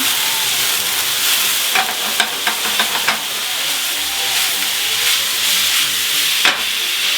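Steak slices sizzle loudly in a hot pan right after a splash of cognac, a steady close hiss and crackle broken by a few scraping turns of the meat.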